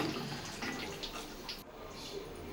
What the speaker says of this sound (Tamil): மசாலாவை சேர்த்து நம்மளுக்கு எவ்வளோ குழம்பு தேவையோ அந்த அளவுக்கு தண்ணி ஊற்றிக்கலாங்க